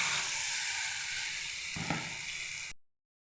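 Water is added to spiced masala frying in oil for a lentil fritter curry, and the pan gives a loud, steady sizzle and hiss with a brief stir-like scrape before it cuts off abruptly.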